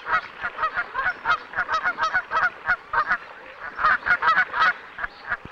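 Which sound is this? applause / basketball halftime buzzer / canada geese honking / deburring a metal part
canada geese honking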